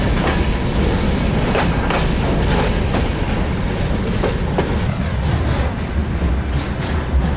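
A freight train on the Baikal–Amur Mainline in Eastern Siberia rumbles past continuously with loud rolling noise and rhythmic clicks of wheels over rail joints, close by.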